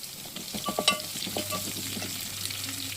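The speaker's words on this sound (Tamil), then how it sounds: "பூண்டு நல்லா பொரிஞ்சதுக்கப்புறம் கருவேப்பிலை ஒரு கொத்தை ஆட் பண்ணிக்கலாம்." Garlic and a sprig of curry leaves frying in hot oil for a curry-leaf kuzhambu, a close, steady sizzle with a few sharp spatters and stirring scrapes early on, no voices.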